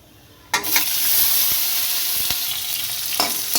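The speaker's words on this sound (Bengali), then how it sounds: "কালো জিরেটা একটু ভাজা ভাজা করে নেওয়ার পর কাঁচা লঙ্কা আর রসুন যে রেখেছি সেটা দিয়ে দেবো" Nigella seeds, green chili and garlic hit hot oil with a sudden loud sizzle that settles into continuous, steady frying, with a few crackles and pops along the way.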